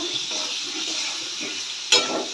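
Fish curry being stirred in a pan after turmeric and salt go in for a thin jhol, giving a steady soft sizzle and scraping stir, with a sharper clatter near the end.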